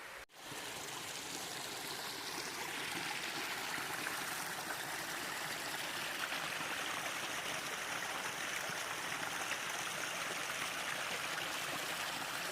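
A mountain stream rushes beside a hiking trail, a steady, close, full-bodied wash of flowing water that never pauses and carries no voices.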